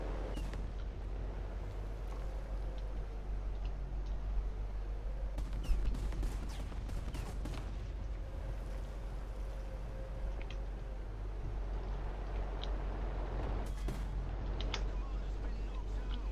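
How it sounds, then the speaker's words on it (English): Artillery fire falling in War Thunder, heavy booms and crackling impacts scattered over a constant low engine rumble, with a distinct cluster of sharp blasts midway and more near the end. "There's artillery falling as well."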